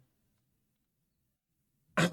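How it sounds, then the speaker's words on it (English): A single abrupt sneeze bursts out at the very end after near silence, short and fairly loud. "That was my sneeze."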